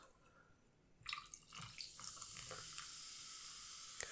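A canned fizzy drink is poured into a glass packed with too many ice cubes. After a quiet first second, close, steady liquid splashing and crackling starts and carries on to the end.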